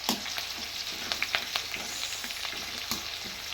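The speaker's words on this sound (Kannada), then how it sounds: "ಈ ಕಾದಿರುವ ಎಣ್ಣೆಗೆ ಹಸಿಮೆಣಸಿನ್ಕಾಯಿ, ಹಾಗೂ ಒಣ ಕೆಂಪು ಮೆಣಸಿನ್ಕಾಯಿ ಸ್ವಲ್ಪ ಹಾಕಿ" Green chillies and dry red chillies frying in hot oil, a steady close sizzle broken by scattered pops and stirring clicks.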